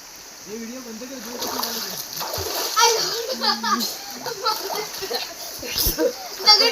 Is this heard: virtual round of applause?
no